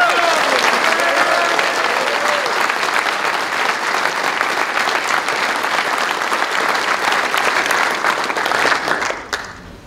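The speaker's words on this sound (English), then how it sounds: "round of applause for them" Spectators at a Royal Marines King's Squad pass out parade applaud, a loud sustained wash of many hands clapping for nearly ten seconds before it fades out.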